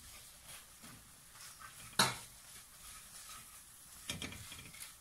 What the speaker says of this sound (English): we're going to throw in our coconut shavings, little by little, as we stir this in